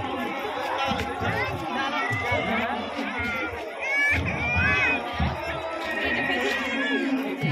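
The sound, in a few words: large crowd bustling outdoors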